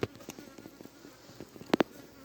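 Honeybees buzz faintly at an open hive while a few soft knocks and clicks sound close by, two sharper taps near the end.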